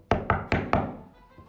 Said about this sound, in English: Soon the lumberjack arrived at grandmother's house and knocked.